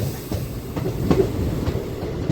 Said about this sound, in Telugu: శ్రీకాకుళం 2వ నెంబర్ ప్లాట్ఫామ్ లాగిందండి మన ట్రైను.